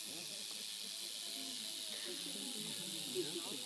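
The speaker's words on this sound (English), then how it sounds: "He's warning me with his rattle." A rattlesnake shakes its warning rattle during wrangling, a steady dry hissing buzz held throughout at close range, with faint speech-like sounds underneath.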